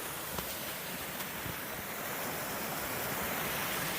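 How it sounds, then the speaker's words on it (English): Small waterfalls on a stream along a hiking trail give a steady, even rush of water, faint and unbroken, with a few soft splashes near the start. "A bunch of little waterfalls like that pretty much the whole way up."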